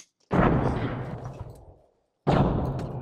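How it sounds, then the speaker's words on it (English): Two frag grenade explosions in the video game ArmA Reforger, each a loud, close, heavy boom with a long rumbling decay, the second arriving about two seconds after the first fades. "Oh shit, two frags out,"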